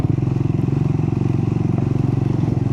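A motorcycle being ridden on a road during a winter trip, with a loud, steady engine drone and rhythmic pulsing throughout, close up and with no talking.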